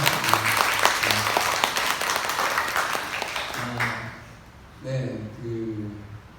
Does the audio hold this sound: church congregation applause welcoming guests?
yes